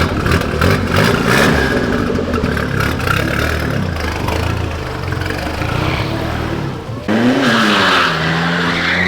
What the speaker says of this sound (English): I should attempt to do a burnout in it on the way out